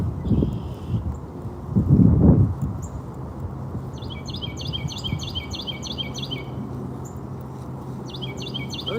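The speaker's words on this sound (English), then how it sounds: "Birds chirping." Birds chirp near a kayak on open water on a day after a weather front, repeated quick high tweets in a regular series, moderately clear over wind and soft water noise, with a brief thump early on.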